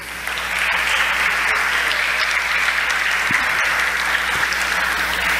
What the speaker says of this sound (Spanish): Un aplauso para Alejandra,